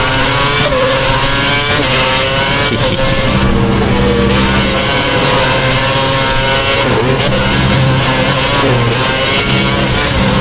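F1 race car from the 2011 season in the video game F1 2011 at the Malaysia circuit, braking hard and cornering: a loud, continuous engine roar that drops and climbs in pitch as it slows and accelerates, with no talk.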